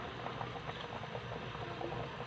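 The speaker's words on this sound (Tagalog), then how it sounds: "Kulong-kulo na siya talaga ang aking bangus." Sinigang na bangus with kangkong boils hard in a pot, a steady, close bubbling and gurgling churn that holds at an even level throughout.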